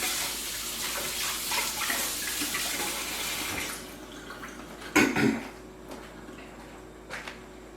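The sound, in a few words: rinsing hands under running tap water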